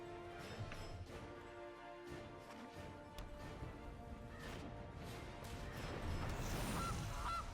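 A goose honk plays for the Gilded Goose card in the Magic digital card game, with a couple of honks set among busy game effects, clatters and a low background bed.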